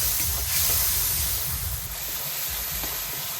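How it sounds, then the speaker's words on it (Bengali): Spice paste of turmeric, chili and coriander powder with salt fries in a pan, giving a steady, close, hissing sizzle with no talk. "মশলাটা খুব ভালোভাবে কষিয়ে নিচ্ছি"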